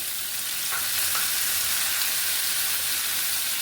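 Chopped tomatoes hit a hot frying pan for a noodle dish with chicken balls and sausage, setting off a loud, steady sizzle and hiss that holds evenly throughout with no talking.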